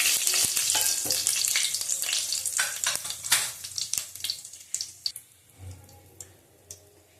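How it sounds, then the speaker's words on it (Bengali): Bay leaves, dried chillies and five-spice crackle and sizzle in hot oil in a wok, the busy hiss thinning out into scattered pops and light utensil clicks as it settles. "দেখো 5 ফোড়ন দিয়ে দেবো। কড়াই বসিয়ে তেল দিয়ে দিয়েছি।"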